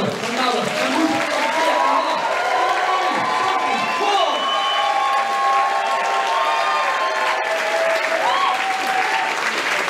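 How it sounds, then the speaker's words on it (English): A crowd gives a round of applause, loud sustained clapping mixed with cheers, whoops and shouting voices throughout. "There's a round of applause."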